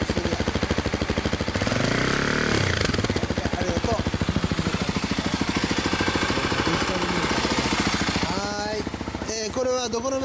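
A 2015 Yamaha MT-03 motorcycle engine idles with a steady, throbbing exhaust rumble, loud and close, then revs briefly near the end.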